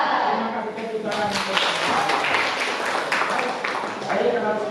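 Children in an Indonesian classroom clap together after a chant, a steady burst of hand claps mixed with voices close by.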